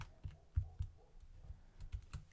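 A few separate keystrokes on a computer keyboard as a short command is typed into Rhino modelling software, soft close clicks spaced irregularly with quiet gaps between them, ending in a slightly louder tap.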